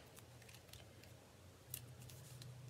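Scissors snip through doubled-up ribbon while making a handmade card, giving a few quick, soft close-up cuts over a low steady background hum.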